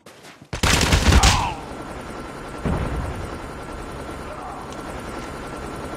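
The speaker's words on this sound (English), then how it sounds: "stealth chopper inbound." Burst of rapid gunfire erupts early in a Call of Duty match, then a steady whirring rotor drone of an incoming stealth chopper hums underneath for the rest, with a brief thump partway through.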